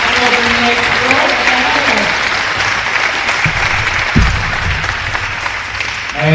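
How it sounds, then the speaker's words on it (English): A crowd gives sustained, loud applause for a shotgun sports team at a national championship celebration, the dense clapping continuing throughout with brief voices and a cheer mixed in. "Let's do one more big round of applause for this team."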